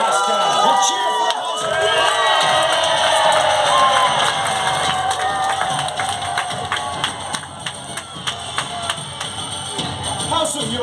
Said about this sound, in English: A cheer for Lancaster.